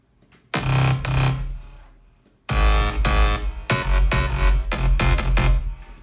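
Heavy layered synth bass notes, a sustained block followed by a pause and then several rhythmic held stabs, loud and distorted with no voices.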